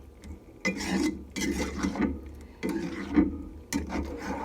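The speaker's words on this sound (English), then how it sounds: "Now let's give it all a mix." A spoon is stirred through tomato pasta sauce with dried parsley, making about five short, close scraping and rubbing strokes separated by brief pauses, with no talking.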